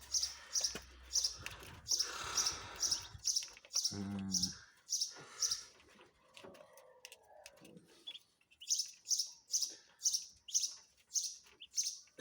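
Ruddy shelduck ducklings chirp during their morning feeding, bursts of high, rapid peeping in repeated rhythmic runs, near and fairly loud, with a short low knocking and some handling noise in between.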